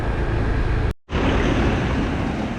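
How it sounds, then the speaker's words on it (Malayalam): Loud, steady rush of flowing water fills the air, broken by a brief cut of silence before the roar resumes. "അവിടെ കണ്ട ഒരു പുഴ ഇങ്ങനെ ഒഴുകി വന്ന"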